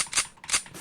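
Two sharp blasts of a shotgun firing in the video game Project Speedkills, each a short bright crack with a quick decay, spaced about a third of a second apart and heard alone.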